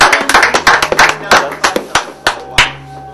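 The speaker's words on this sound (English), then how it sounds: "let's have a clap." Loose, uneven audience clapping at a live evening event, a handful of separate sharp claps thinning out into scattered single claps, close and fairly loud.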